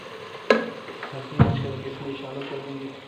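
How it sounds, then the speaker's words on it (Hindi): A besan and yogurt mixture is poured into sizzling masala in a desi kitchen pan making karhi pakora, with two sharp splashy hits followed by a spreading fry hiss and stirring, heard close. "अब इसमें हम डालेंगे बेसन और दही जो हमने मिक्स की है।"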